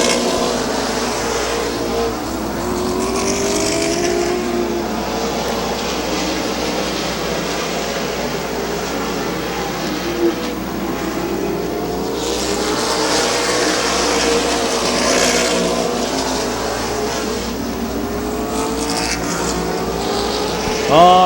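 Stock cars race at Midvale Speedway, their engines droning and surging steadily as the field runs in a pack. The roar rises and falls as cars pass, with a faint announcer voice underneath.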